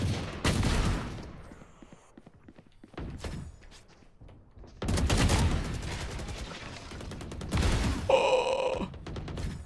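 Gunfire in a first-person shooter game: several bursts of rapid shots, loud and close, separated by short quieter gaps with footsteps, the last burst ending with a ringing metallic tone.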